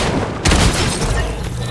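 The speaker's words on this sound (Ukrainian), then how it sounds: "мені стріляють" Dense, continuous Fortnite gunfire with a sharp burst of shots about halfway in, loud and close throughout.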